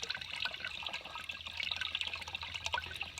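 Spring water pours steadily from a hose outlet inside a spring box, a close, continuous splashing trickle with small bubbling spatters and no voices.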